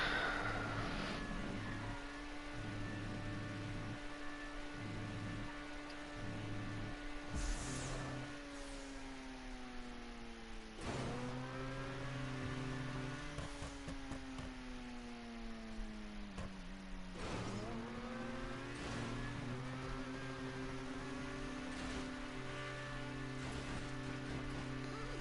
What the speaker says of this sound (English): the revs just dying out as the car transitions between the tubes